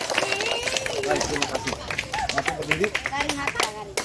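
Audience clapping for a young performer at a school event re-enacting Indonesia's independence proclamation, with scattered claps mixed with voices and chatter from the crowd throughout.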